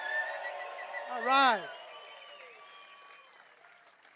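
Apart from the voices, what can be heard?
crowd cheering and applauding at skateboarding ceremony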